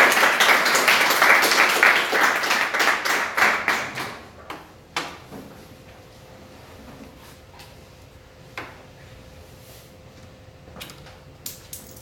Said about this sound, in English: I'd like you to give a round of applause to Dr. Mark Joblin